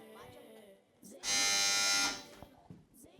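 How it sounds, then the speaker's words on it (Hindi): A contestant's buzzer sounds on a children's math quiz show, one loud, harsh electric buzz lasting under a second, with voices around it. "गौर से देखिएगा, उसके बाद बजर बजाइएगा।"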